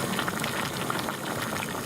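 Close, loud rolling bubble and hiss of water at a full boil in a pot on a SOTO Triflex camping stove, continuous throughout with no talking.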